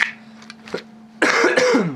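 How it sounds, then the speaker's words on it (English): A single close, harsh cough after a quiet moment with a faint steady hum, followed by a rough, throaty burst. "Sorry for all the coughing."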